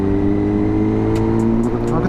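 A car engine idling steadily with a low harmonic hum after a drive through the city centre, running hot at around 95 degrees while it cools. Loud and close throughout, with a few brief clicks on top.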